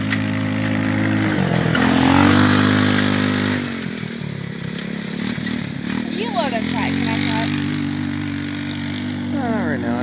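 A go-kart engine buzzes past at close range, rising and then falling in pitch as it goes by, with people talking over the engine noise.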